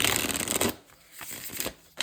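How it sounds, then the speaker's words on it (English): A deck of tarot cards is shuffled close by, a quick riffling flutter followed by shorter soft card slaps and shuffles after a brief pause. "So let's shuffle these cards"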